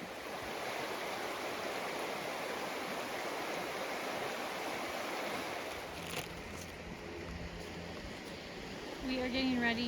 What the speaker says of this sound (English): We are getting ready to cross the west branch of the Piscataquis River.